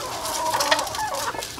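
Chickens cluck and chatter close by while being fed scraps, a run of short, fairly soft calls with no voices over them.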